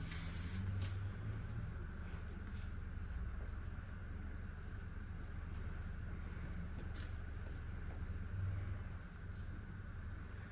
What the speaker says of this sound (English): I'll take my hands and bring it through the hair and spray at the same time